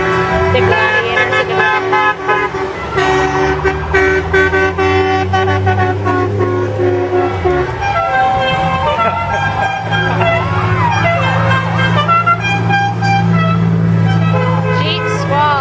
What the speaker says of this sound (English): These guys have the nice horns